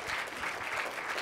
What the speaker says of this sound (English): Round of applause for making it to the state also.